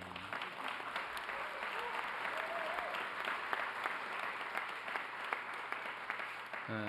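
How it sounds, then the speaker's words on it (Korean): Sustained audience applause fills a science and technology policy meeting, a steady dense wash of many hands clapping at moderate distance for several seconds before a voice briefly resumes at the end. "이럴 때 박수도 한번 하는 거예요."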